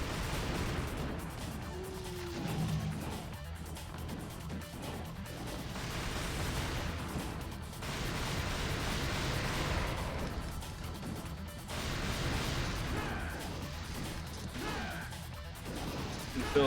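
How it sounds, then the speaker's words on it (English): Gunfire and crashing impacts in Devil May Cry 2 come in repeated heavy bursts with sharp cracks layered over a dense, busy game soundtrack, moderately loud and continuous. "I feel like the guns are the loudest thing in the game."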